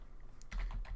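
A computer keyboard is typed on in a short burst of close, soft clicks that start partway in, after a brief quiet moment.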